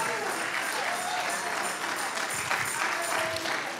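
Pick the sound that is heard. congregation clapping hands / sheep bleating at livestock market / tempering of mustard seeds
congregation clapping hands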